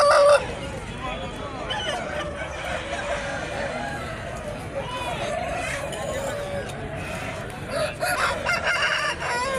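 A rooster crows near the start at a busy open-air chicken market in Nallapadu, among other fowl, with steady crowd babble and people talking throughout.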